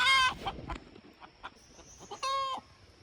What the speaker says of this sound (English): Freddie is our Bielefelder rooster.